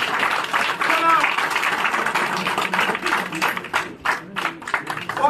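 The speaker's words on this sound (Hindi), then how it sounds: "जोरदार तालियों के साथ इस्तकबाल" Clapping from a gathering in a party office welcoming a new BJP member, a busy spread of handclaps mixed with talk, growing patchier and more scattered in the last seconds.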